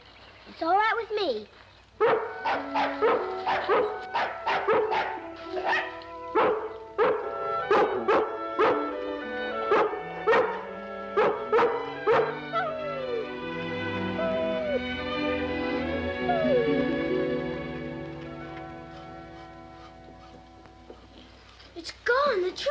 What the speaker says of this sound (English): If you want to stay and bark at that squirrel all day